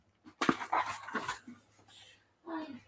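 Dog whimpering and panting close by in short, uneven bursts, fairly quiet, with a person's voice briefly mixed in.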